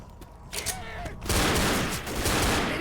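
A dense burst of rapid gunfire erupts after a quieter opening in Left 4 Dead, loud and continuous like a fusillade of game weapons.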